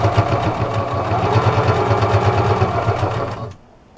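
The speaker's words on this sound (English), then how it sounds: "I'm just double stitching it" Sewing machine running steadily as it double stitches a handmade dish sponge, a fast continuous mechanical whir close by that cuts off abruptly near the end.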